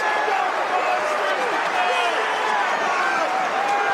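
Football crowd at a Charlton match cheering and applauding a late goal by Thierry Small, a dense, continuous roar of many voices and clapping from the stands, loud and sustained throughout.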